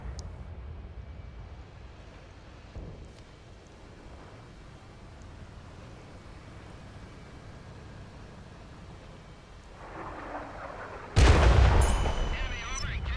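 Artillery fire in an online shooter game: faint low rumbling booms through most of the stretch, then a sudden loud, close blast near the end with a crackling tail.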